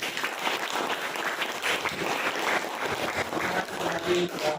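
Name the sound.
applause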